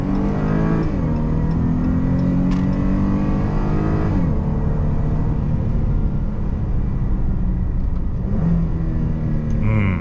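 A Chrysler 300 engine revs up steadily through several paddle-shifted gear changes, its loud drone rising in pitch and then dropping.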